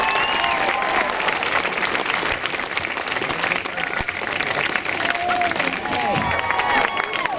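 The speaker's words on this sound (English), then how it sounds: "Give yourself a round of applause" Climate strike crowd outdoors applauding themselves, a broad roar of clapping mixed with cheers and crowd murmur, sustained and fairly loud for several seconds.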